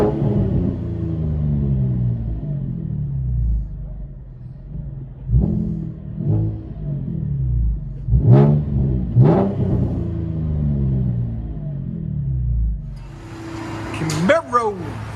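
From inside the cabin of a 2015 Chevy Camaro V6 with dual exhaust and Vibrant bottle resonators, a low engine drone rises into two sharp revs midway, with a brief louder burst near the end.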